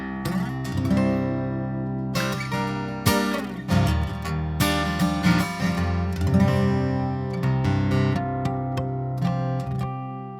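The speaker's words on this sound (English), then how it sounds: "if I go back and then I take this through the box, I get something that sounds like this guitar." An acoustic guitar fed through a processing box rings out with full, sustained strummed chords and picked runs, loud and close with no voices.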